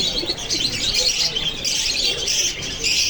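Young Oman teddy pigeons, Pakistani highflyer babies, make soft chirping and cooing calls in repeated short bursts, close by and fairly quiet.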